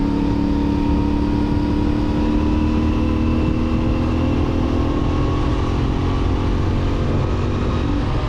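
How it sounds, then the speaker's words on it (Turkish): A CFMoto 450MT motorcycle with about 205 kg aboard climbs a mountain road, its engine droning loudly and steadily close by under throttle, with continuous wind rush and no voices. "Bakın 4000'de bir gazilik gaz yaptım. 5000 rampa yukarı direkt tırmanışa geçebiliyorsunuz."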